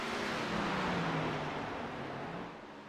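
A race car on a track roars past in a steady, loud engine drone, its pitch sliding slowly downward as it moves away, with no voices over it.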